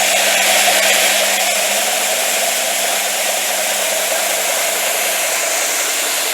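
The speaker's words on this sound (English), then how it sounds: "I'll turn it up a bit and give it a bit of a whirl." A belt disc sander (linisher) motor runs steadily at full speed, producing a loud, continuous whirring hum with a slight tonal drone and no pauses.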